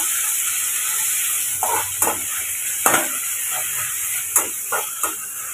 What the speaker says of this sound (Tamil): சேர்த்துட்டு இப்போ லைட்டாக அப்படி வதக்கிக்கிடலாம்